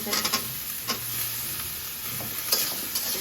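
Potato pieces frying in a pan while being stirred, a continuous close sizzle broken by scraping and light ticking knocks from the utensil.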